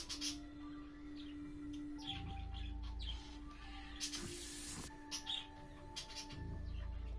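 Birds chirping outdoors during a quiet drive, with thin, scattered tweets over a steady low rumble and a faint sustained tone, moderately quiet and fairly distant throughout.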